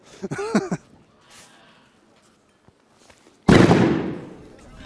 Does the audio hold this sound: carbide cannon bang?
yes